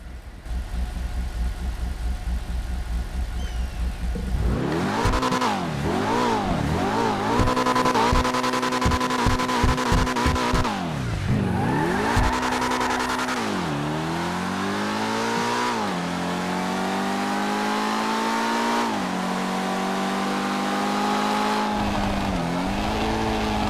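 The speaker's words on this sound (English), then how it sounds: "let's turn up the volume here so you guys can hear the exhaust on this thing" A Cunning Stunts DLC car in GTA 5 Online revs its exhaust hard and repeatedly, rising and falling engine pitch with sharp sweeps, crackles and sustained high-rev drones, loud and close with no talking.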